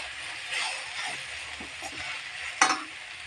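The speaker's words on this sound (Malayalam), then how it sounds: "ഇങ്ങനെ തുറന്ന് തന്നെ വെച്ച് ഇളക്കി തോർത്തി എടുക്കാം നമുക്ക്." Karkidakam thoran sizzles softly in an open pan while a spoon stirs it, giving scraping swishes at irregular intervals and a sharper clack near the end, with no voices.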